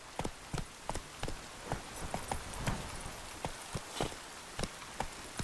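A horse gallops in The Witcher 3 video game, its hoofbeats a quick, steady run of sharp clops, fairly close and alone with no talking.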